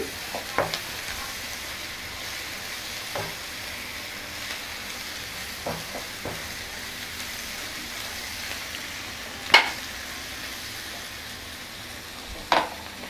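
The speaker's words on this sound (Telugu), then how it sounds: "ఇవన్నీ బాగా వేగుతుంది, చక్కగా మగ్గింది." Onions fry in a pan for an egg fry curry, a faint steady sizzle with occasional sharp clinks and scrapes of a stirring spoon, with no one talking.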